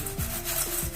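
Crispy deep-fried sweet corn kernels crunching and rustling in a bowl, a close, steady rough scraping texture with a couple of sharper crackly bursts over about a second, no talking.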